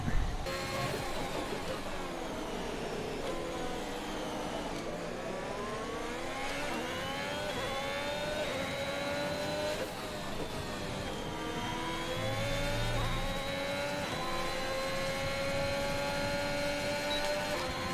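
A Formula 1 car engine in the F1 2021 racing game screams steadily through a lap, its pitch rising and falling with gear changes and acceleration, loud and continuous with no talk over it.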